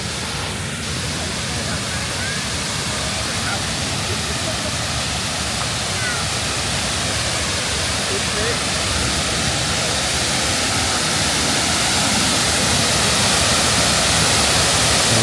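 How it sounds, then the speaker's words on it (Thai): Si Dit waterfall in Khao Kho during the rainy season roars as a steady, dense wash of falling water that stays loud and even throughout, with no pauses. "นี่ก็มาแล้วครับ น้ำตกสีดิด นี่ อยู่ข้างหน้าเราแล้ว"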